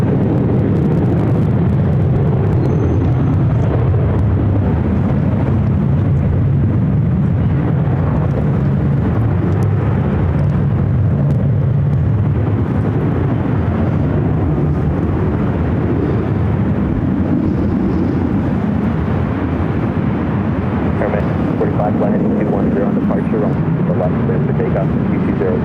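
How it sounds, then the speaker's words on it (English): Airliners taking off from runway 24 Left at LAX, including an Aeromexico 737 MAX 9 and a British Airways jet, make a loud, continuous jet-engine roar that fills the whole stretch. "We kind of have a lineup of flights taking off here on the 24 left."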